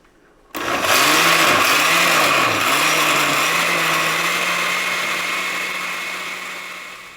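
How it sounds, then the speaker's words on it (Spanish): Blender grinding chiles, onion, black pepper and cloves with water for a pork adobo, starting abruptly and running loud and steady with a low motor pitch that dips and recovers as the load churns, alone without talk. "Esta última licuadora que molí, aproximadamente la dejé de 3 a 4 minutos."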